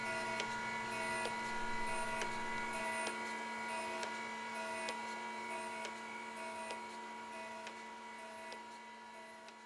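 A surface grinder's spinning grinding wheel working across V blocks in a machine shop, a steady close hum and whine with faint rhythmic ticks, no voices.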